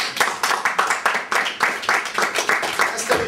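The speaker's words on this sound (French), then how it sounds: "Allez, on l'applaudit très fort." An audience at a live comedy stage show claps in a steady rhythmic beat, about four claps per second, loud and close, with some voices mixed underneath.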